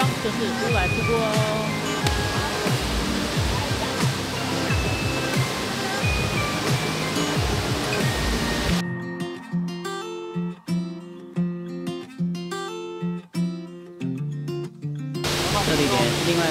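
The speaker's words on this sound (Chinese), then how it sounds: "前方就是乌来瀑布哦" Wulai Waterfall in Taiwan sends up a steady, dense roar of rushing water that fills the scene, broken midway by a stretch of music before the noise returns.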